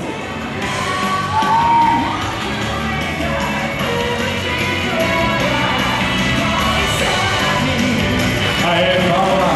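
Audience at an anime convention cosplay parade, clapping and cheering in a steady roar of applause with whoops and shouts rising throughout, voices mixed into the crowd noise.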